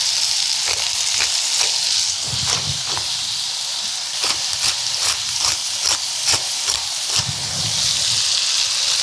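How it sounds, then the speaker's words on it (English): Ground meat browning for chili in a hot pan, a steady bright sizzle and hiss with repeated scraping stirs breaking through, close and loud with no talking. "So I'm going to go ahead and brown these meats off"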